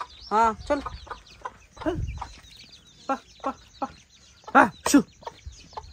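A village hen with her chicks clucks repeatedly at close range, short irregular calls in bursts with a few louder squawk-like notes, over a quiet rural background.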